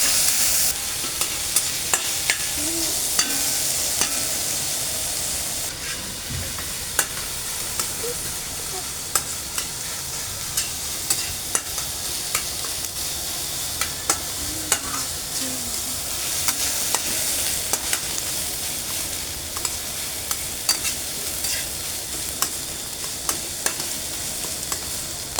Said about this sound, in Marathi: कांदा छान ब्राऊन कलरचा होईपर्यंत आपण भाजून घ्यायचं.